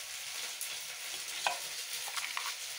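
Vegetables and greens frying in oil give a faint, steady sizzle with occasional soft stirring scrapes and clicks, no voices present.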